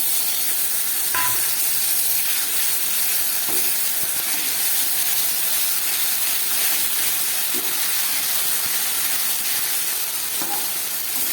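Tomatoes go into hot oil with fried onion, garlic, cumin, coriander and chilli for a spicy fish curry, giving a loud, steady sizzling hiss that runs unbroken with no talking.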